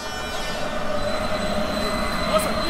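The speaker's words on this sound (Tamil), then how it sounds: "ட்ரெயின் வந்துகிட்டு இருக்கு" A train in the Japanese horror game Hollow Cocoon rumbles steadily close by, its wheels squealing and screeching in sustained high tones over a continuous heavy rail roar.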